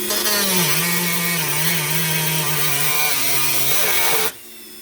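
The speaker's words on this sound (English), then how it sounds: "This is why my Dremel is my favoriteest tool ever for things like this instead of using the big die grinders." Dremel rotary tool making small, shallow cuts on a fuel tank pressure sensor install for an '04 Saturn, a loud, steady high whine with slight pitch wavers that runs for about four seconds, then cuts off abruptly.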